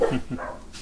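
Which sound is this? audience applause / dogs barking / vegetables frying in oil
dogs barking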